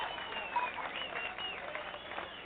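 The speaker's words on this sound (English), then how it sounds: "This round of applause is for you, brother." A short round of applause at a night-time talk show, a faint, thin wash of clapping heard through narrow, muffled sound.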